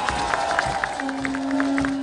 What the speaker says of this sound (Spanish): Fuerte el aplauso para Escuela Libre Arte Vida